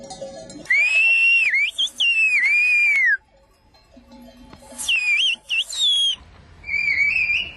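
Shepherd's whistled language in the high Ossau valley, a series of loud, piercing, pitch-gliding whistles in phrases separated by pauses, carrying across open mountain air.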